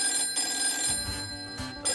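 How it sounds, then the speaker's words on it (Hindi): A telephone rings in a Hindi-dubbed South Indian comedy scene, a tonal electronic ring that repeats in short bursts with brief gaps between them. "फोन किसका बज रहा है?"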